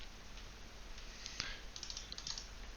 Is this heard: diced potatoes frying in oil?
no